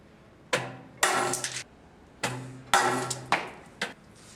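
A pendulum impact tester strikes with loud metallic clanks that ring briefly, falling in paired bursts with short pauses between them.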